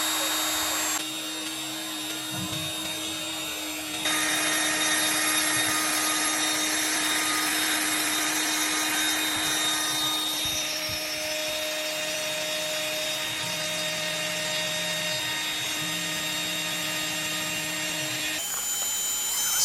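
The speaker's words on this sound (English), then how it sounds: "We must switch on the trimmer before putting the CNC into operation." A LUNYEE 3020 CNC machine runs with its trimmer spindle, giving a loud continuous high-pitched whine over stepper motor hums that shift pitch as the axes move, steady for nearly twenty seconds without speech.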